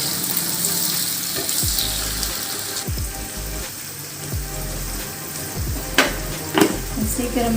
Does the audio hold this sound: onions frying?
yes